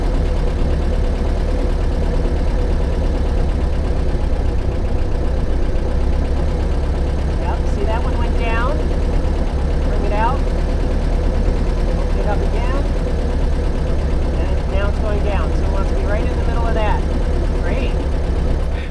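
A warmed-up car engine idles steadily at low pitch while its carburetors are tuned, a smooth continuous rumble with faint chirpy squeaks over it and someone talking throughout.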